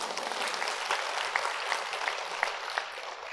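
Audience clapping during a lecture at Seongnam City Hall, a steady wash of many hands at moderate distance with a few sharper individual claps standing out, no voices over it.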